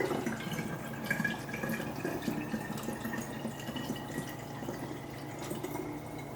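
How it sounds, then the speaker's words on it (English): Homemade ginger ale syrup strained into a bottle: a steady, soft trickling pour of liquid, continuous and close, with faint drips throughout. "now I'm going to strain the ginger ale or the simple syrup that we made into the bottle as well"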